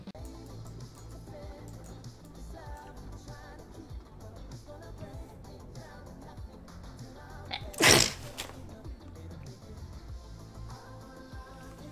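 A girl gives one sudden loud sneeze about two thirds of the way through, set against quiet background music and room noise.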